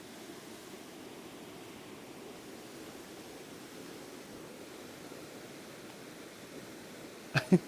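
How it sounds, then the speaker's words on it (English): A loud river rushing beside a campsite during heavy rain, a steady broad roar of water running throughout, close and constant, ending with a couple of brief sharp knocks. "The river."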